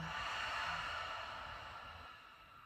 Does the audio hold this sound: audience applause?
no